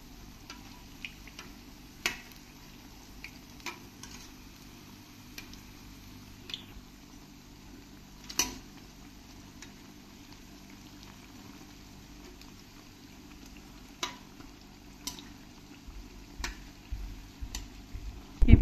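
Sambar vada pakoda frying in a large kadhai of hot oil, with a soft, steady bubbling hiss and scattered light ticks and clinks as the fritters are turned over.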